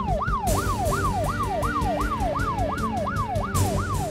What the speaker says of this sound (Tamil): வெளிய சைரன் வச்ச கார்ல வந்து இறங்கினாரு ரங்கசாமி.